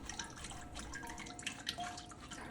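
Seasoning liquid for Korean water kimchi being strained, with quiet irregular drips and trickles of liquid falling into a container, faint and close, no speech.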